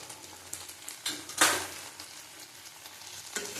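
Spices with turmeric and Kashmiri chili powder sauté in a pan with a quiet, close sizzle. Intermittent spatula scrapes and stirring clatter are heard, with one louder stir midway.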